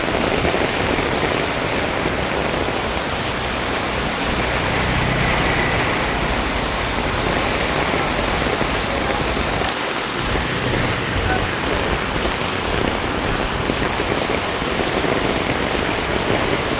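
Heavy monsoon rain pours down in Mumbai near Andheri Azad Nagar metro station, a steady, dense roar of water on surfaces that fills the whole scene without letup.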